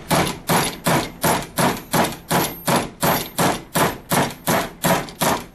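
Steady, forceful blows from a full-size hammer strike a 1911 pistol sight to knock it off, about twice per second, a dozen sharp ringing metal taps in an even rhythm, close and loud.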